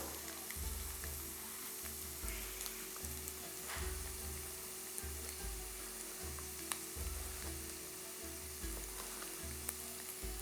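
Chopped onion sizzles steadily in a hot pan while baked peas are being prepared, a close, continuous crackling fry with a faint low hum running underneath.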